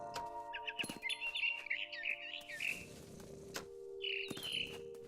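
A small bird in the video game What Remains of Edith Finch chirps in quick bright bursts, scattered over a few seconds amid soft clicks and thumps, faint and fairly close.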